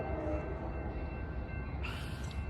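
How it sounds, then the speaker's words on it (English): An Amtrak Capital Corridor train led by an F59PHI locomotive arrives at Oakland's Jack London Square station, a steady rumble of rail cars rolling past with a brief high squeal near the end. "Amtrak 551, the final Capital Corridor train, now arriving at the Oakland London Square station."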